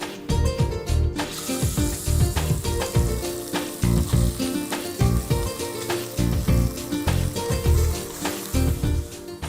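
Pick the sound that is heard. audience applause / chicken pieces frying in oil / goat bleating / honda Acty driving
chicken pieces frying in oil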